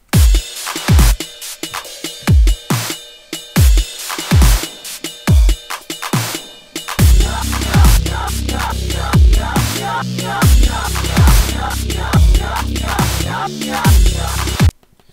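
Punchy drum hits start alone in a steady rhythm, then a thick synth bass joins in, playing along with the beat.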